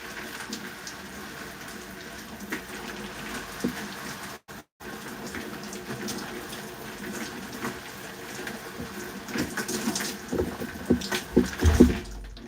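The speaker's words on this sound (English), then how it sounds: "Adding more water to rehydrate my hair." Water being added to natural curly hair by hand produces a steady, close hiss and patter of spraying or dripping water, rising to a few louder splashy bursts near the end, with no talking.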